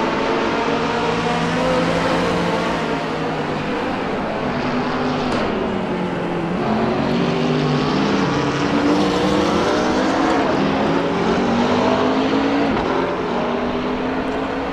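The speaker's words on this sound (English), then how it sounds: "Jeremy Bryant currently sitting in 11th, so Suspect Speed trying as best they can to get some better speed out of those BMW Z4s" BMW Z4 race cars run laps at Zandvoort circuit, engines roaring steadily and close throughout, with rising and falling revs as cars pass and shift, no voices over the constant motor noise.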